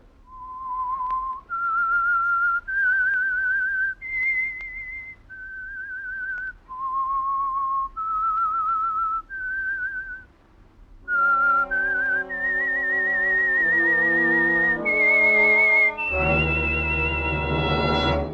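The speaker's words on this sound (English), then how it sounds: "That whistle is your signal for the Signal Oil Program, The Whistler." A lone whistler performs the eerie signature tune of The Whistler radio program, a slow series of clear sustained notes followed by an orchestral swell that joins the melody.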